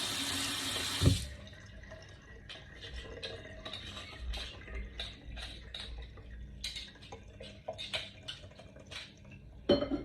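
Tap water runs steadily into a sink while shellfish are rinsed and cleaned, with light clinks and scraping of shells and dishes over the flow, a brief louder gush near the start and again at the end.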